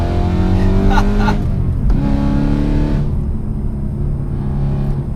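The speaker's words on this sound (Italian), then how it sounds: "Guardate quanta gomma lascia giù questo M6." A BMW M6 drifts and lays rubber on the road, its engine loud and close, revving hard in surges with a sustained rumbling drone and brief gear-change dips.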